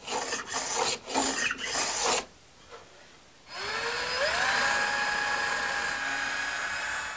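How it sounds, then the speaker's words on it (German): A hand plane shaves a rosewood electric guitar fretboard in a series of rasping strokes, followed by a pause and then a steady whirring machine tone with a rising pitch, close and moderately loud. "Uwe Schölch bearbeitet es zunächst mit einem Hobel."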